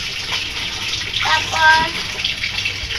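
Water gushes steadily from a household faucet, filling a basin for washing laundry; a voice speaks briefly over the running stream.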